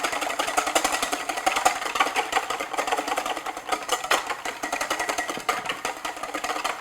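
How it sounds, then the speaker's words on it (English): A whisk beating an egg in a bowl, a fast continuous rattling clatter of wire against the bowl, steady and close with no pauses or speech. "I'm just using my whisk again"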